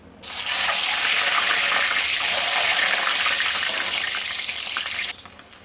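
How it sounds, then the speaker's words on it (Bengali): Eggs hitting hot oil in a wok, a loud burst of sizzling that starts abruptly and holds steady for several seconds before cutting off. "দেখো বন্ধুরা তেল গরম হয়ে গেছে আমি এখন ডিমগুলো ভেজে নেবো"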